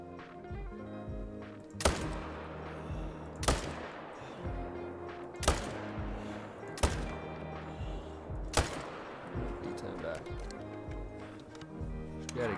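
Assault rifle shots in the hunting game theHunter Call of the Wild ring out as single sharp reports spaced about every two seconds, loud and close against a low ambient background.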